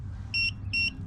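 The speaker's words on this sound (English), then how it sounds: "we're now going to get a beep that tells us that that position has been paired" Two short, high electronic beeps in quick succession from an Airstream tire pressure monitoring system pairing a sensor, clear and close, over a low background hum.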